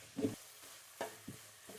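Onions and tomatoes sauté quietly in a pan under a faint hiss, while a spatula gives four short scraping stirs.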